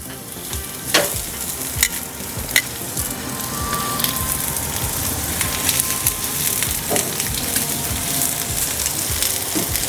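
Onions frying in oil on the griddle of a gas grill: a loud, continuous close-up sizzle with a few sharp spatula scrapes and knocks early on, and no voices.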